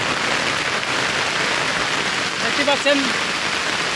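Heavy monsoon downpour pours as a dense, constant hiss of rain, loud and close, with someone speaking briefly near the end.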